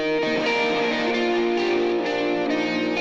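Distorted electric guitar strumming straight rhythm chords with chorus and echo effects in a mix of a cover of a worship song, a dense, steady wall of sound throughout.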